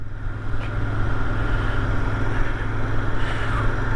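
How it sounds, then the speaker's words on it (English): A Royal Enfield 650 Interceptor motorcycle idles steadily through its standard exhaust with a low, rumbling throb, close and continuous throughout. "Standard exhaust sounds lovely."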